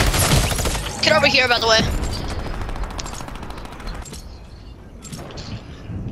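Gunfire and sniper rifle shots in the Fortnite video game crack out in a burst of sharp bangs near the start, followed by scattered fainter shots, while a player talks over them.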